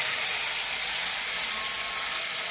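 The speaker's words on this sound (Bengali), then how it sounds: "এবার আমি সর্ষে পোস্ত বাটাটা দিয়ে দেবো।" Mustard-poppy seed paste hisses softly in hot oil after a tempering is fried, giving a short, even sizzle that holds steady with no talk over it.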